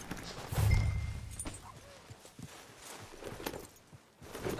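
Horse hooves from the video game Red Dead Redemption 2 clop slowly on the ground at a walking pace, with a snort near the start and soft ambient sounds around.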